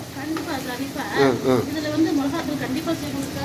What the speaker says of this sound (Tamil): இந்த இன்பிட்வீன்ல அந்த சாதத்தை கொஞ்சம் கிளறி விறீங்க நல்லெண்ணெய் போட்டு